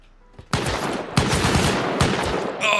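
Video game turret gunfire during a raid on an inverted open core: loud rapid bursts of shots, three sharp onsets each followed by a sustained rattling volley, close and dominant with no talking.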